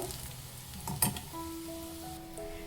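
Chopped onions fry in a hot tempering for bisi bele bath, a steady close sizzle with soft stirring and one brighter crackling burst midway.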